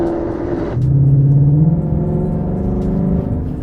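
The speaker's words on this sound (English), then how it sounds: "You get that more of that Corsa Xtreme sound." Ford Mustang GT fitted with a Corsa Xtreme cat-back exhaust in track mode, a loud close engine rev that rises and then settles into a deep, sustained rumble.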